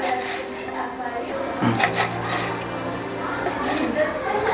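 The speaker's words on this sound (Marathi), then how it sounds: "इकडे आपण कोथिंबीर चिरून घेतो आहे." Fresh coriander being chopped for homemade pav bhaji, with a few quick, light knife taps on a board that are partly buried under a woman's speech.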